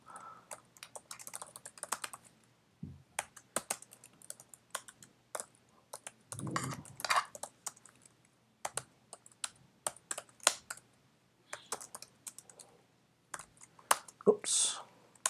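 Quiet, close typing on a computer keyboard, bursts of rapid key clicks broken by short pauses, with faint talk at moments.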